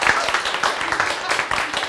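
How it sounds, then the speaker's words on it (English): Audience applause at a technical presentation on offline mobile apps, a scattered patter of hand claps, moderately loud, with a voice talking over it. "Round of applause at this point would be good"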